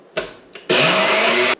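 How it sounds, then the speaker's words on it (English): Pesto ingredients with garlic, salt and pepper whirring in a blender: two short pulses followed by a loud, steady run of nearly a second that cuts off abruptly, heard close with no talk. "put the lid on this and let's blend it"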